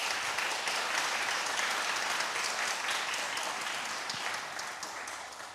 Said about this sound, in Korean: 오늘 이 자리를 기획해 주신 이준하 선생님께 먼저 뜨거운 박수